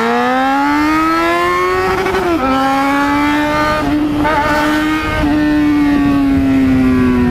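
A motorcycle engine roars loud and steady throughout, its pitch climbing and dipping through gear changes as the bike runs hard on the road.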